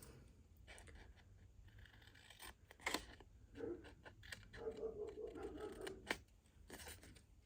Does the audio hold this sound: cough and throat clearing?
no